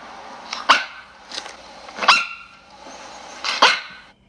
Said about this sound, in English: So you can turn on the dog barking sound.